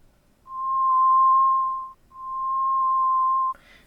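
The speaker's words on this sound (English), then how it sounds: "that was the sine wave" A steady pure electronic sine-wave tone from a theremin hums at one pitch, breaks briefly, then resumes before cutting off with a short burst of noise. No talking.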